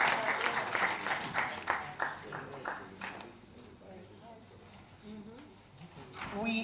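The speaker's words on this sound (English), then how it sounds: "Let's give ourselves a round of applause for being part of history." A crowd at a university business school opening ceremony claps, a burst of loud scattered applause that thins out after a few seconds, with a voice speaking over the fading claps and renewed clapping at the end.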